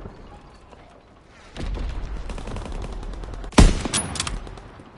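Gunfire in Call of Duty WWII, with a stretch of rapid machine-gun bursts and one sharp loud shot followed by a ringing tail; dense, close and fairly loud.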